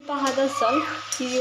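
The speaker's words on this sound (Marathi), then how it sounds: "अगदी कुरकुऱ्याप्रमाणे कढईत असतानाच असा आवाज येतोय कुरकुर" Crackling sizzle of rice kurkure snacks frying in hot oil in a kadai, with stirring scrapes in the pan, under a woman's speech throughout.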